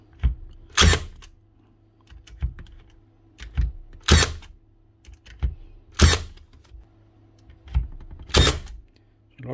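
A Milwaukee M18 cordless crown stapler fires staples in sharp, loud, separate shots about every two seconds, with faint clicks and handling sounds between them and no talk.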